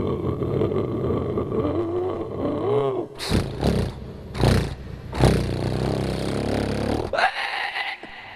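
A voice imitates a Bajaj Kawasaki motorcycle, revving and rumbling as it rides up from a distance, with loud bursts of throttle before it pulls up and stops.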